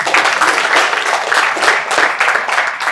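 Audience applause at a tenth-anniversary celebration event, a steady sustained wash of many hands clapping throughout, dense and fairly loud with no talk over it.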